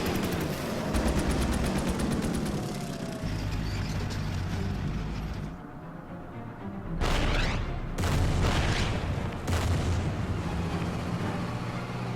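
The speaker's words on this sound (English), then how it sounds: "Some enemy artillery firing" Enemy artillery firing in the wargame Order of Battle, with loud booming blasts and rapid gunfire bursts in repeated clusters, heavy and continuous with brief quieter gaps.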